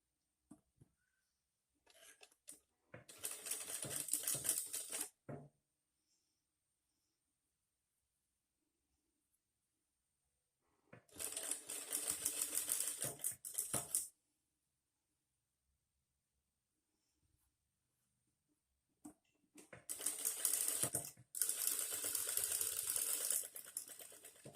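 A sewing machine stitches elastic thread along the edge of a sleeve in three separate loud bursts of rapid mechanical whirring, each a few seconds long, with near silence between them.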